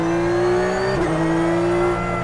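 Porsche 911 GT3 Cup race car engine on track, a loud sustained onboard drone with a quick upshift about halfway through, pitch steady before and after, no talking.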